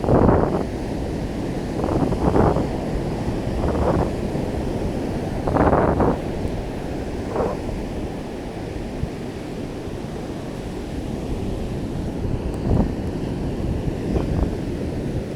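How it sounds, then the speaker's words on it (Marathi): Rough sea on the shore whipped up by strong wind, with a steady roar of surf, repeated gusty bursts buffeting the microphone, and no voices. "समुद्र खवळलेला आहे"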